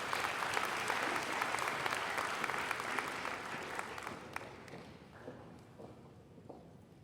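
Audience applause fills a nursing pinning ceremony hall, dense steady clapping for about four seconds before thinning out into scattered claps and fading.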